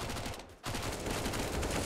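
AK-47 automatic gunfire in a Counter-Strike match on Inferno: a dense rapid burst of shots, briefly cut off, then resuming as sustained loud fire.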